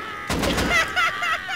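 Gunfire in the video game Rust, a short burst of loud, close shots followed by a couple of further reports with ringing tails, over game ambience.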